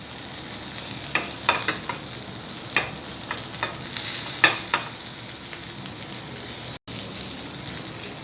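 Garlic frying in a pan beside a sirloin steak sizzles loudly and steadily, with several crisp clinks and scrapes from stirring or turning, close-up and with no talking.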